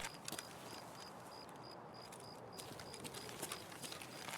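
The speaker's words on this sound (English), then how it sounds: "Definitely a big footstep popping sound there." Footsteps in Escape from Tarkov, likely another player approaching: faint, evenly spaced thuds and clicks repeating steadily against a low, quiet background.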